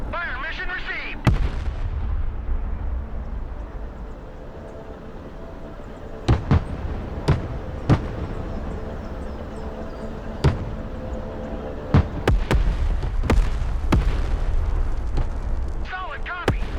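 An artillery fire mission in the Broken Arrow video game sends sharp booms and thuds landing one after another at irregular intervals over a steady rumbling battle bed, with radio-style voices talking throughout.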